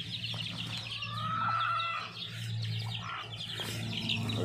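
Chickens clucking and chattering while being fed outdoors, a busy overlapping flock of close, moderately loud calls over a steady low background hum.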